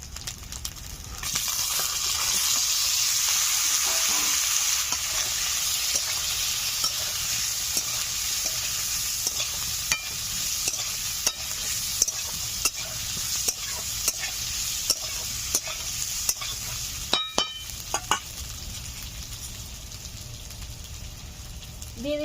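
Boiled potatoes go into a hot pan for a rohu fish curry with potato and eggplant, and are stirred and fried. A steady close sizzle runs throughout, with repeated spatula scrapes and taps on the pan.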